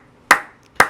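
Two sharp hand claps about half a second apart, close and crisp, with near silence between and around them.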